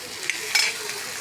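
Onion, tomato and grated fresh coconut fry and get stirred in a pan, a soft steady sizzle with a few brief scraping clicks of the spoon.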